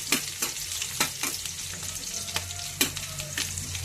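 Green chillies frying in a prawn, tomato and drumstick curry base, close bright sizzling broken by sharp spatter pops and stirring scrapes at irregular intervals, with no talk.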